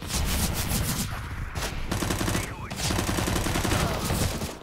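Rapid bursts of automatic gunfire in Counter-Strike: Global Offensive, loud and dense, with brief pauses between volleys and a voice talking over parts of it.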